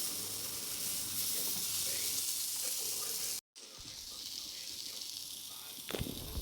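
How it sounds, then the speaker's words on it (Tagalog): Sausage and onion frying in a pan give off a steady broadband sizzle and hiss that runs continuously, broken by a brief dropout midway, with a soft clatter near the end. "Fried sausage and onion."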